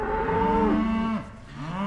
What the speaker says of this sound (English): fixing to move the cattle through the timber like we did a little while ago